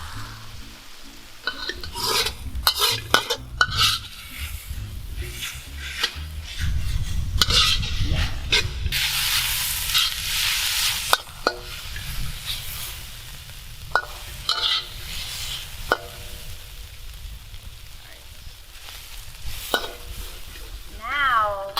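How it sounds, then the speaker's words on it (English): Instant noodle stir-fry flipped and tossed in a hot pan, with steady sizzling and frying broken by clanks and scrapes of utensils against the pan. "Time to flip and toss."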